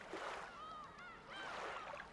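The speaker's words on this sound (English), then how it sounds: "And the iconic seagull sound." Faint, wailing seagull cries from the video game Umineko rise and fall in a couple of quick calls over a soft, airy background.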